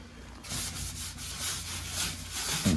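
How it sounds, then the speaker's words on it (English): A Scotch-Brite pad scrubs a hot, greasy oven surface with warm water, producing steady abrasive rubbing strokes in a continuous close rasp that swells and eases with each pass, no speech. "Just go in with the Scotch-Brite"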